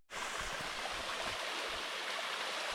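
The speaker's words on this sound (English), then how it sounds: "Pretty little waterfall." A small waterfall on a Great Smoky Mountains backcountry trail, a steady, close, full rush of falling water that starts abruptly and continues evenly throughout, with no voices.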